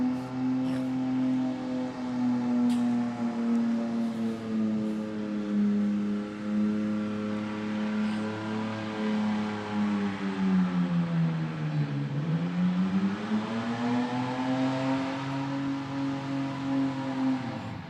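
Ford AU Falcon at a burnout competition pad, its engine holding a loud sustained drone that dips in pitch midway and climbs back, continuous and close.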